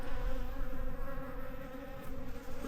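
Bees gather around something in a rail yard, and a steady, close insect buzz drones without a break through the whole stretch. No voices are heard.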